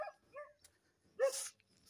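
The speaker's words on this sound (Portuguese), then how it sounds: "Aqueles cachorros ali, ó." Dogs on a forest trail give a few short, sparse yips and barks with quiet gaps between them, fairly soft and somewhat distant.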